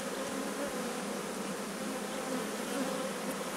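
Honey bees drone at an open hive in an apiary during a box change, a steady, dense buzzing that stays constant and close throughout, with a single brief spoken word.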